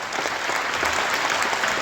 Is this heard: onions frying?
no